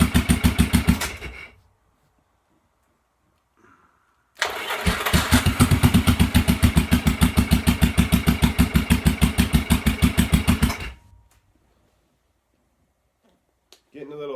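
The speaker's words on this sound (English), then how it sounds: "Getting a little backfire through the carb here" A 1986 Yamaha XV750 motorcycle engine on a single carburettor runs briefly, cuts out, then restarts and chugs in a loud rapid rhythmic idle with popping backfires through the carb before stopping again; no talk is heard.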